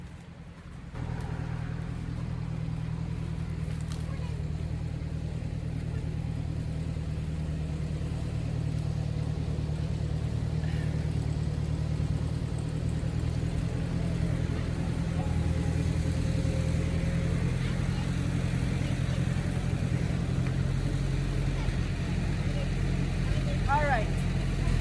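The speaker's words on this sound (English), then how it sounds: "as you guys probably heard, Scott just pulled up with the tractor" A tractor pulls up and idles outdoors, a steady low engine rumble running continuously throughout at moderate loudness with no talk over it.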